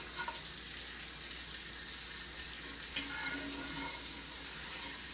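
Steak sizzling in butter with garlic and rosemary in a skillet, a quiet, steady frying hiss with faint crackles and pops throughout.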